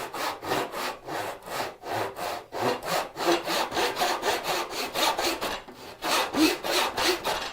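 A hand saw cuts a dado in wood with steady rhythmic back-and-forth strokes, about two per second, close and rasping, with no talk over it.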